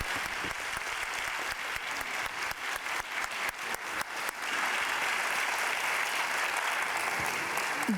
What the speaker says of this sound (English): I kindly ask you a round of applause for the 4 of them.